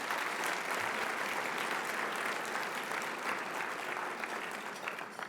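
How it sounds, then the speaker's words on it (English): Sustained audience applause at a regional planning conference, a dense, steady wash of many hands clapping at moderate volume, tapering slightly toward the end. "You can clap for that."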